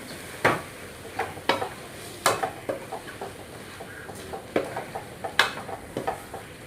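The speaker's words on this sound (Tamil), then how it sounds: "சிக்கன் சேர்த்து மிளகாத்தூள், மஞ்சத்தூள் உப்பு சேர்த்து சிக்கனை கொஞ்சம் நேரம் அப்படியே எண்ணெயிலே வதக்கி விட்டாச்சு" Sizzling oil with frequent sharp crackles and pops as chicken with chilli powder, turmeric and salt fries in a pan, fairly close, with no talking.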